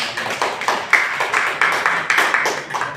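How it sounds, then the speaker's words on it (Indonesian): A small group claps steadily in quick, even rhythm for a few seconds in a classroom, close and moderately loud. "Oke, beri tepuk tangan dulu."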